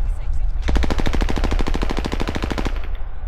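Rapid automatic gunfire in Call of Duty Warzone, one loud close burst of about two seconds of evenly spaced shots, with a faint voice underneath.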